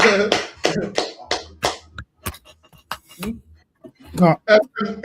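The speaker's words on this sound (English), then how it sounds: "With that, clap it up." A handful of sharp, close hand claps sound in quick succession between stretches of a person talking.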